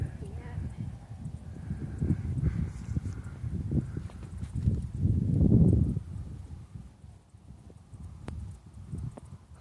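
A herd of bighorn sheep walks over dry desert ground, their hooves giving soft irregular clopping and scuffing nearby, with a louder stretch in the middle and people talking over it.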